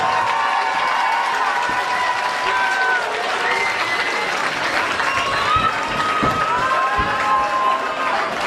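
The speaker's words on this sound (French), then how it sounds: "Vous pouvez l'applaudir très fort." A festival stage audience applauds and cheers loudly and steadily, with shouting voices and whistles mixed through the dense clapping.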